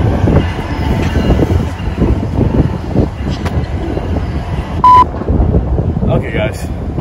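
Train rolling past outdoors, a steady broadband rumble with rattling and gusty wind buffeting the microphone throughout, a brief tonal beep near the middle, and faint voices mixed in.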